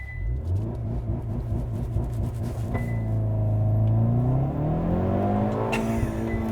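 A 2022 Hyundai Veloster N with a dual-clutch transmission launches hard from inside the cabin, its engine held at a steady buzzing rev before surging, rising through a gear change with a loud, climbing drone.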